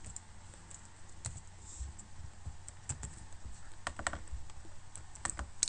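Quiet, steady clicking of a computer keyboard as C# code is typed, irregular bursts of keystrokes with short pauses, close and alone without any voice.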